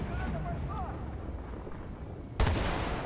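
Gunfire in the video game Bad Company 2 on the Atacama Desert map: a low, rumbling battlefield bed, then one sharp, loud shot burst near the end followed by a lingering roar.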